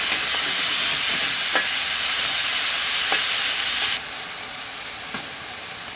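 Cut eggplant frying with spice masala in oil for a small-fish chorchori, a loud continuous hissing sizzle with a few faint spoon taps, dropping slightly in level partway through.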